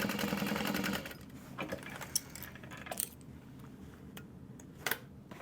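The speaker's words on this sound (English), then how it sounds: "readjust back to that 1/2 inch seam allowance and back stitch" A sewing machine back stitches a tote bag seam, running in a short close whir before stopping, followed by scattered light clicks and handling taps in a quiet room.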